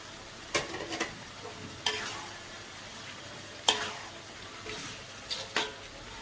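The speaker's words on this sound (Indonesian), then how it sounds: "Kita campurin tahunya yang tadi ibu, tahu yang udah digoreng tadi." Fried tofu and shrimp in green chili sauce being stir-fried in a pan, with a soft steady sizzle broken by a few sharp scraping strokes of the spatula.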